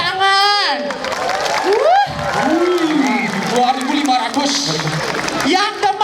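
A lively audience at an outdoor Balinese bondres comedy drama shouts and cheers, with loud overlapping voices and whoops over scattered clapping and crowd noise.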